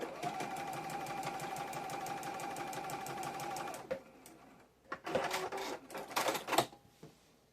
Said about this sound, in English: we're going to sew from top left to bottom right